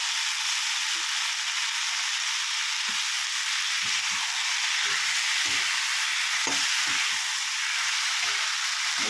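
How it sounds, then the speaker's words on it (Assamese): Chopped ridge gourd fries in hot oil with a loud, continuous close sizzle, broken by scattered soft knocks of stirring. "অলপ সময় ভাজি ল'ম।"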